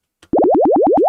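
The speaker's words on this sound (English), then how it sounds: "This is what aliens sound like, by the way." Synthesized alien sound effect in a music production session: a rapid chain of about eight identical rising bloopy chirps, loud and close, preceded by a brief noisy blip.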